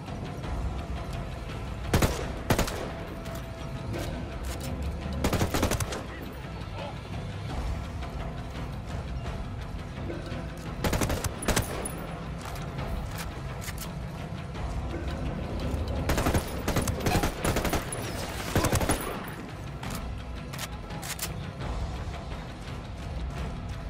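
Bursts of gunfire in the video game Ghost Recon Wildlands, with several loud clusters of rapid shots separated by stretches of lower combat noise and mechanical clatter, close and punchy.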